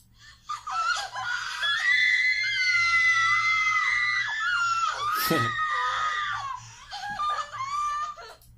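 A group of girls lets out a long, loud, high-pitched scream effect, several voices wailing together for several seconds before breaking into laughter and more shrieks.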